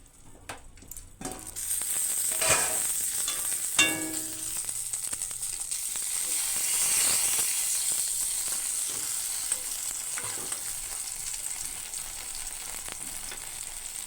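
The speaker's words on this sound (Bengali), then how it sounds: "ভাবলাম যে গরম গরম বেগুন ভাজা করি" Eggplant slices frying in hot oil in a pan, a steady loud sizzle throughout, with brief clatters of stirring early on and no talk.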